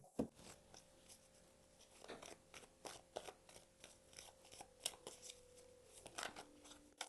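Soft, rapid papery flicks and riffles of oracle cards being shuffled up close, irregular and quiet, with no voices.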